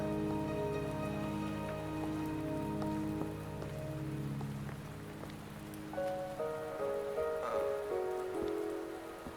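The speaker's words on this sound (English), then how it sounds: "Are you trapped here by the rain?" Steady rain patters on surfaces throughout a video game scene, a continuous close wash of droplets under sustained musical tones that shift partway through.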